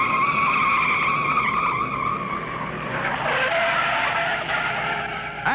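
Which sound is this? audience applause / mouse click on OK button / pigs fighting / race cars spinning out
race cars spinning out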